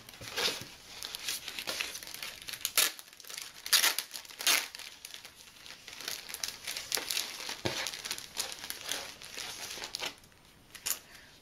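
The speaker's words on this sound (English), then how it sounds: "Pardon the crinkling." Plastic embroidery floss packaging crinkles and crackles in irregular close bursts throughout, loud and near with no talking.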